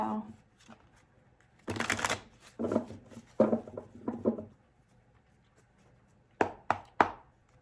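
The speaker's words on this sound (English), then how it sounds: "Okay, 3 more shuffles for Aries." Tarot cards are shuffled by hand in several quick bursts, each a close papery riffle and snap, separated by quiet pauses, with a final cluster of three sharp shuffles.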